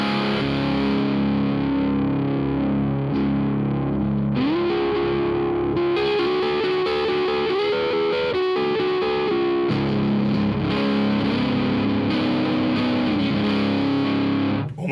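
Electric guitar played through a Marshall Origin 20 watt head into a single 12-inch cabinet, with gain and master on full and the boost on, giving thick, heavily distorted sustained chords and riffs, loud and close with no talking.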